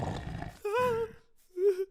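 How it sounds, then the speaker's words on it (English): Cartoon wolf growling in a short animated scene: two separate rough, throaty growls with a brief pause between, fairly close and alone. "The wolf appeared growling."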